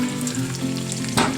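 Onions, carrots, garlic, habanero and red peppers frying in melted fat for hot wings, a steady close sizzle with a brief louder burst near the end.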